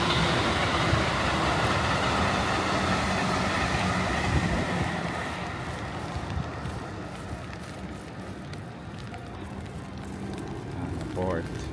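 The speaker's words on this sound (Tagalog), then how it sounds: "Oh, there's a train." A train passes near a shopping mall in Fukuoka, Japan, a steady broad rumble that holds for the whole stretch and eases slightly toward the end, with voices talking over it.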